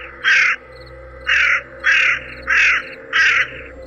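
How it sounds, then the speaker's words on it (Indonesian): A crow caws five times in an even rhythm, each call loud, harsh and close, standing out clearly over a quiet background with no talk. "Suara gagak itu terdengar lebih panjang."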